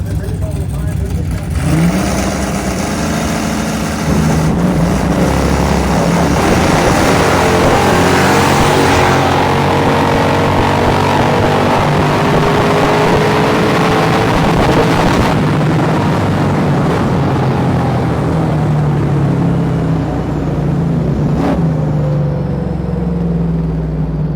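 A junkyard-built 454 Holden Monaro makes a drag racing pass on nitrous, its loud engine roaring steadily and rising in pitch across the run, with people talking over the noise.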